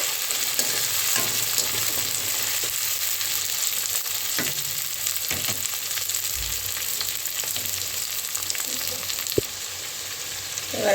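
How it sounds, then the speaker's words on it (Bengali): Tomato frying in a pan for an aloo dish, an even hissing sizzle that holds throughout, with occasional light stirring taps and a single sharp knock near the end. "টমেটোটাও একটু ভাজা হবে।"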